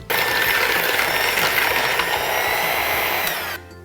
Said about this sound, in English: we're gonna use our electric hand mixer and beat it again.